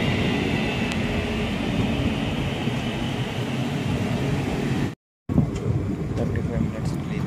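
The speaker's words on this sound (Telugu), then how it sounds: "35 minutes డిలేతో అయితే కారేపల్లి జంక్షన్ నుంచి మన ట్రైన్ అయితే డిపార్ట్ అయిపోయింది" Secunderabad SF Express train departing Karepalli junction, 35 minutes late, heard from on board as a steady broadband rumble and rush, loud and continuous, with a brief dropout before the noise resumes.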